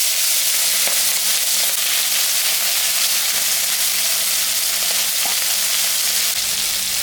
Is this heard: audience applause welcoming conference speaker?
no